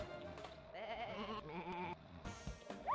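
Sheep in the Sheep Raider video game bleat in wavering, nasal cries, several overlapping calls rising and falling close by over faint game background sounds.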